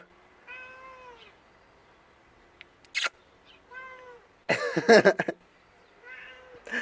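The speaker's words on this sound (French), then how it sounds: "Quel top ce chat." A cat meows three times in drawn-out, tonal calls with pauses between, plus a short sharp click and a louder burst of rustling or handling noise.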